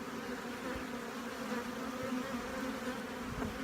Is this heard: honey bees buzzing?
yes